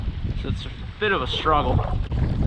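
Strong wind along First Fork Sinnemahoning Creek in Potter County, Pennsylvania, buffets the microphone with a low rumble throughout, while someone speaks briefly over it.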